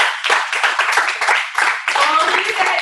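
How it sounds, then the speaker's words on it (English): A small group claps at a results academy session, loud and close, in uneven bursts with brief dips, while voices talk and call out over the clapping. "Yeah, clap it up"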